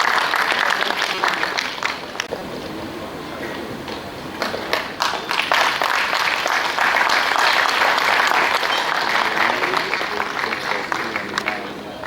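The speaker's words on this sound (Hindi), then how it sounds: "एक बार जोरदार तालियां हमारे" Loud, sustained applause from an audience in an auditorium for the chief guest, a Chhattisgarh state minister, arriving at a Chhattisgarhi drama festival at Kala Mandir, Bhilai. Dense clapping continues steadily throughout, swelling in the second half.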